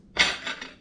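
A utensil stirring sugar into fish sauce in a bowl gives a single bright metallic clink followed by a short ringing scrape, close and brief.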